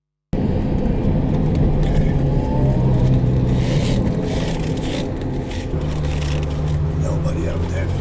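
A Honda NSX sports car fitted with a Science of Speed exhaust drives steadily on an alpine road, its engine giving a continuous loud drone with shifting tones throughout.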